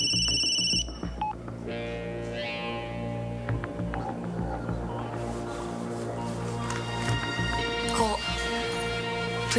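Telephone keypad tones sound under a busy mix of music and voices, with short beeps near the start among steady sustained tones.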